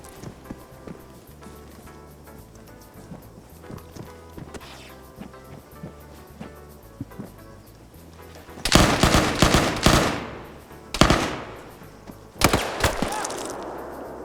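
Gunfire in a PvP video game match breaks out as several loud bursts of rapid shots over a busy background of faint music and footsteps, with quiet gaps between the volleys.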